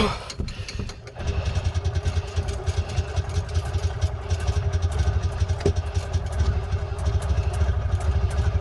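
A Freightliner (Columbia Parcar) golf cart's small engine, with a faulty choke cable, catches after a brief pause and runs loud and close with a steady, rough, clattering chug.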